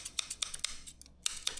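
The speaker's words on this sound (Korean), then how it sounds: "기존 가위입니다." Several crisp scissor snips in an uneven rhythm, close and fairly quiet, with a brief pause before two more cuts.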